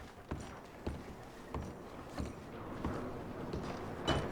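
Horse hooves clip-clop in Red Dead Redemption 2, a steady run of soft, evenly spaced footfalls heard at moderate distance over quiet outdoor ambience.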